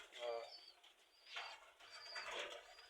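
Pigeons coo in short low bursts at close range, with voices talking faintly in between.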